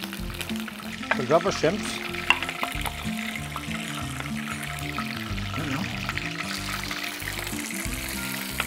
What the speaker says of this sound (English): while we're melting the butter